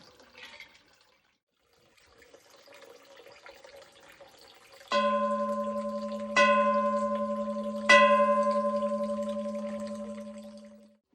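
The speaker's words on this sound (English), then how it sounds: "make a wish, and then ring the bell 3 times" A bell at Damyang Fortress struck three times, each ring clear and sustained, decaying slowly, after a few seconds of soft water trickling in the background.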